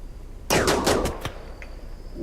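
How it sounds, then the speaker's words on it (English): Gunshots in the video game RimWorld, a quick cluster of four or five sharp cracks in close succession, followed by a couple of fainter pops over a quiet background hum. "Shots fired. She's taking shots."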